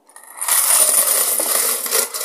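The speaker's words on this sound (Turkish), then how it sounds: "Buraya paraları dökeyim." Coins from an opened piggy bank pour out in one loud, continuous metallic jangle and clatter lasting a couple of seconds, close and alone.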